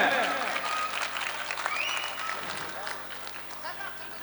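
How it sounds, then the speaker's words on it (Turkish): Wedding guests applaud the bride and her brother, a dense burst of clapping from a crowd with talk and room noise beneath, fading slightly midway. "Güçlü bir alkış alalım tekrardan gelin ve abisine."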